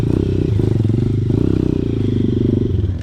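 A trail motorcycle with a modified gear ratio climbs a steep uphill in first gear, its engine loud and close with a continuous throbbing drone and rattling clatter from start to finish.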